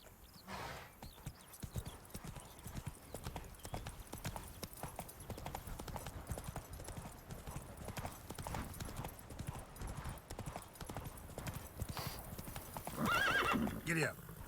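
Horse hooves clip-clop steadily in The Witcher 3 game while the horse whinnies, with a rider urging it on beneath the continuous galloping rhythm.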